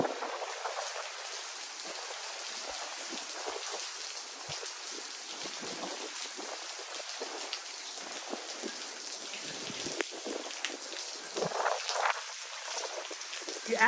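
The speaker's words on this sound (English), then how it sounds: "lot of blowing rain." Wind-blown rain from Hurricane Delta at landfall in Louisiana, a dense steady hiss of rain lashing surfaces with gusty swells, continuous and close, without talking.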